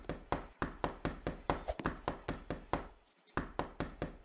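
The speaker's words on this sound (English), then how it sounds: "There's also knocking." Steady knocking inside a grave in Roblox Brookhaven, a rapid series of sharp, evenly spaced thumps repeating about three times per second, with a brief pause near the end before the raps resume, heard alone.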